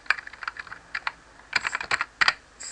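Someone types a Linux command on a computer keyboard, a close burst of quick, uneven key clicks with short pauses between groups of strokes.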